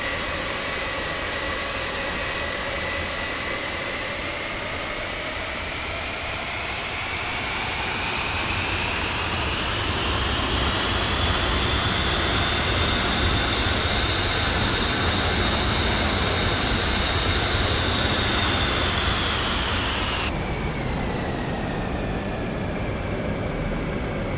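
Boeing 707 jet engines in Microsoft Flight Simulator 2024 spool up from an external view, a loud continuous roar with whining tones sweeping upward and holding, then dropping abruptly as the view cuts inside the cockpit.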